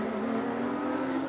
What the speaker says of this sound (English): you can just hear that Daniel Gaughan's car, I don't know, it sounds almost like an exhaust leak or something, Mark.